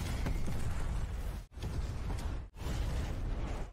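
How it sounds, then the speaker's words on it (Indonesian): A car blowing up after hitting a landmine in a Rambo action film, heard as sustained loud, dense rumbling blast noise broken by two brief cuts to near silence. "salah satu mobil anak buah Hugo pun meledak terkena ranjau dari Rambo"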